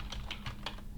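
Keys clacking on a computer keyboard while a command is typed on a Windows Server Datacenter 2025 machine, with about four distinct close strikes spread over a second and no voices.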